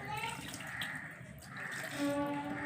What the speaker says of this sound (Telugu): నీళ్ళు కొంచెం అలా అలా అంతా ఇలాగా పోసుకుంటే చాలు